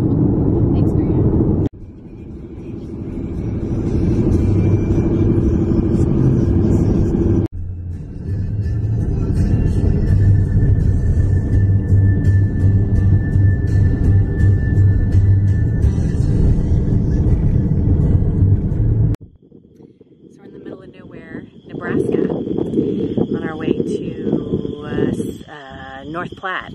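A car drives a highway through a storm, its interior rumble and road noise loud and continuous, broken by a few abrupt cuts and a quieter stretch near the end.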